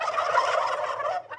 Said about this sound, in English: They are turkeys.